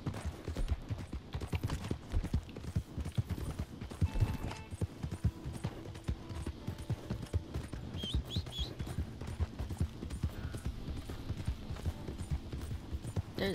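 Horse hooves clip-clop steadily in Red Dead Redemption 2, Missouri Fox Trotter mounts plodding along in a continuous rhythm, with occasional whinnies and faint game sounds mixed in.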